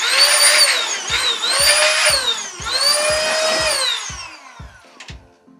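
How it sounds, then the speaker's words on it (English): X3 Hurricane rechargeable air blower blasts dust off a computer fan, a loud high whine rising and falling in several bursts, each ending with a sharp click. "My super blower."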